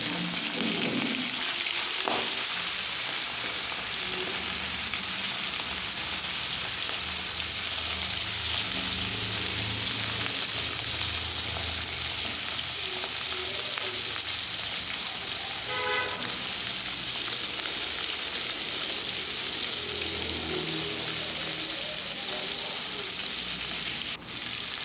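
Pieces of fish fry in white oil in a wok, giving a continuous close sizzle with occasional stirring clatter, while faint vehicle horns toot in the distance.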